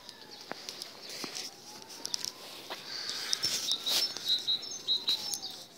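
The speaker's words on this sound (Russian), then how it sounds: "Птички поют," Small birds sing and chirp in a Bucharest city park on a quiet outdoor day, with several short, bright calls repeating at mid-distance, growing busier toward the end over faint ambient noise.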